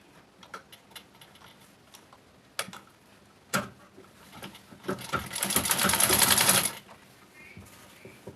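A sewing machine topstitches a sleeveless bodycon dress. Scattered ticks and clicks lead into a closer, louder run of rapid stitching lasting about two seconds, then fading back to light handling noises.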